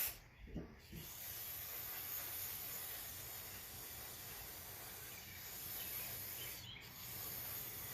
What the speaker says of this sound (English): Spray it down here real quick.